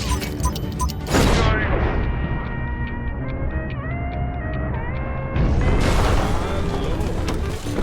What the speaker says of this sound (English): The explosion was probably caused by a gas pocket, very common in old mines.